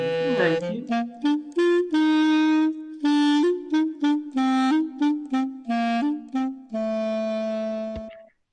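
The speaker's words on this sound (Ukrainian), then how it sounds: "як звучить кларнет із групи духових дерев'яних" A clarinet plays a short melody of separated notes, a few held longer, ending on a sustained tone, solo and close.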